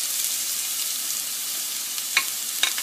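Garlic and achar masala sizzle steadily in hot oil for a red chilli tamarind pickle, a constant soft hiss with two sharp spoon scrapes from stirring near the end.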